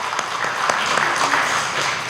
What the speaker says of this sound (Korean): 우리 모두 하나님께 영광의 박수 먼저 올려드리겠습니다.